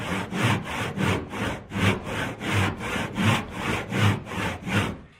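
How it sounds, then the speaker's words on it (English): A hand saw cuts steadily through salvaged wood, about ten rhythmic rasping strokes back and forth, close and loud with no talking. "The secret with hand sawing is you let the saw do the work."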